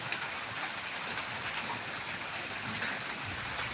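Steady unseasonal rain in Jambughoda makes a dense, unbroken patter of drops on surfaces, moderately loud and without voices.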